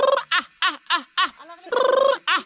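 A person in a Nepali village calls chickens with a clucking, chicken-like vocal imitation, a rapid string of short, loud, choppy calls with brief gaps and one longer trilling burst near the end.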